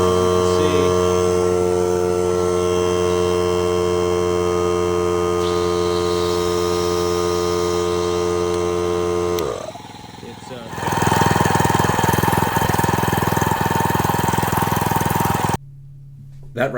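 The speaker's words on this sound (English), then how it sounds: "the generator's on over there, and I have it hooked up to the inverter, which is connected to this compressor" A DIY generator built from a scooter motor runs loudly, powering an inverter connected to a compressor, giving a steady droning hum with harmonic tones that drops out briefly before a rougher, broadband engine-like roar resumes.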